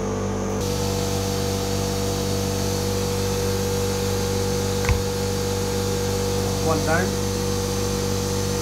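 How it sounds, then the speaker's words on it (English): A loud compressor and a cheap plastic air gun hiss continuously while pushing the pistons out of a Nissin brake caliper from a Triumph Speed Triple 1050. The steady mechanical drone is broken by a short pop and a brief remark from a man. "I've got this rather cheap plasticky air gun, and the compressor's quite loud,"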